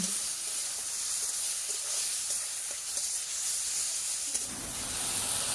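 A spice paste sizzles in a pan while being stirred for a rui fish and cauliflower curry, a steady close hiss with faint scraping and a brief louder stir near the end, no voices.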